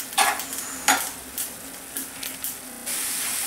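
Chickpeas cook in a pan of sweet and sour sauce, with a few close scraping stir strokes and brief bursts of sizzle, then a steady hiss toward the end.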